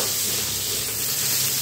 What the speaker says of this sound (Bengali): এখন এর মধ্যে দিয়ে দিচ্ছি একটা টমেটো। পেঁয়াজের সঙ্গে টমেটোটা যতক্ষণ না গলে যাচ্ছে ততক্ষণ আমি রান্না করে নেব।